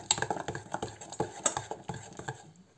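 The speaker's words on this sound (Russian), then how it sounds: "Перемешиваем." Cottage cheese and egg mixture being stirred in a bowl, a quick run of close, light clicks and wet taps of a spoon against the dish.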